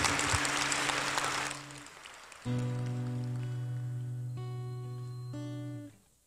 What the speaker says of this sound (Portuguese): Você poderia aplaudir isso daí